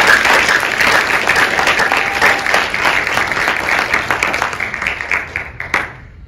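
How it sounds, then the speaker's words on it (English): Loud, steady applause from an audience at a school business plan competition, dense clapping filling the room for several seconds before thinning out at the end. "Please give them a round of applause"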